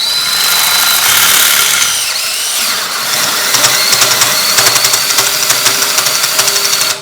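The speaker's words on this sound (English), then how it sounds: "So we're going to go ahead and drill our hole." A hand drill drives a hole saw through sheet metal during fabrication work, producing a loud, steady whirring grind with rapid chattering bursts as the cutter bites.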